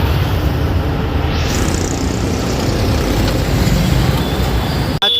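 A Tata Marcopolo GSRTC bus rumbles at the Rajkot bus stand among heavy traffic, giving a loud, steady engine drone and road noise throughout, with no clear talking.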